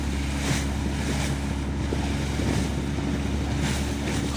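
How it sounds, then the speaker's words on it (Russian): Waves stirred up by a passing speedboat wash steadily against the shore of the Aegean Sea near a large port, a continuous low rumble mixed with wind buffeting the microphone, with no voices. "от катера пришли волны."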